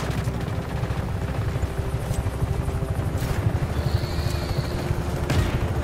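Helicopter in the open-world action game Just Cause, a steady low rotor thump churning loudly throughout amid scattered gunfire cracks and booms.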